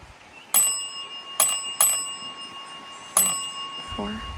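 A small, bright bell rings four times at an outdoor site of an old massacre, sharp separate strikes with short sustained rings, followed by a brief low voice near the end.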